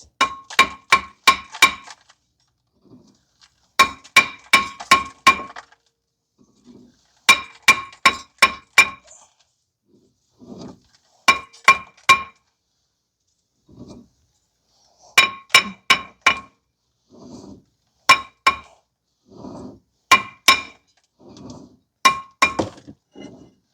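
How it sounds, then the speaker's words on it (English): Sharp metallic hammer strikes on a badly rusted front brake rotor of a 2012 Ford Fusion 2.5 ring out in repeated bursts of three to five blows, separated by short pauses, loud and close with no talking. "you may need to use a hammer to hammer on the outside"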